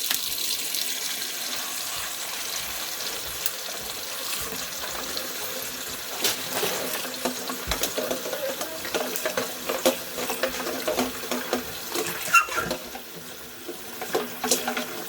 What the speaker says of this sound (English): run some cold water in there